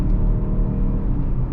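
A Lincoln Corsair plug-in hybrid with a 4-cylinder engine accelerates with a loud, low, strained groaning rumble heard from inside the cabin, steady throughout.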